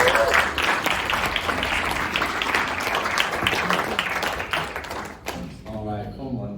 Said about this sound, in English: Will you guys give these guys a round of applause?